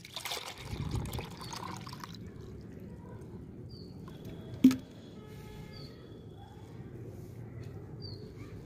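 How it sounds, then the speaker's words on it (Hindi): Homemade banana peel liquid fertilizer poured from a small mug into a bucket holding five liters of water, a brief splashing gush in the first two seconds, then a faint trickle, a single knock and a quiet background. "इस 5 लीटर पानी में मिक्स करूंगी।"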